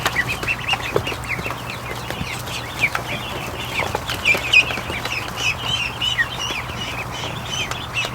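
Ducks fill a barn with busy quacking and clucking calls that overlap continuously at moderate volume, with a low steady hum underneath.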